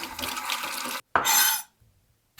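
Tap water runs strongly into a sink while an onion is rinsed under it, a loud close gush broken by a brief pause, then a second burst that cuts off into quiet.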